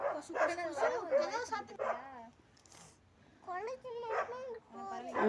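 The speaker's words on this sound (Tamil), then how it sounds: "இது குலைக்கிற சவுண்டே அதுக்கு பிடிக்காது" A dog barks and yelps in short bursts at wild bison near a house at dusk, mixed with whimpering, while someone talks over it throughout.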